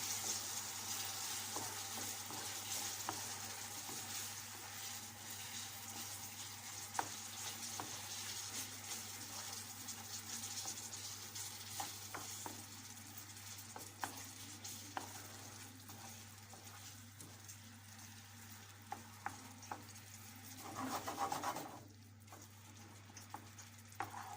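A semolina dessert with three bananas and pomegranate is stirred in a pot, making a quiet, continuous simmering hiss with occasional soft scrapes of the spoon.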